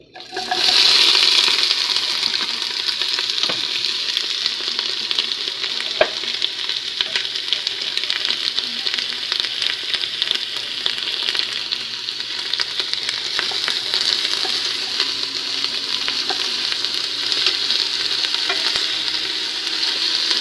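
Onions hit a hot pan with a sudden loud hiss, then keep up a dense, steady sizzle close by. No voices are heard.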